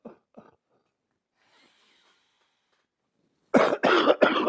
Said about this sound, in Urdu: پھر آرٹیفیشل کف یعنی نقلی کھانسی کرنا شروع کر دینی ہے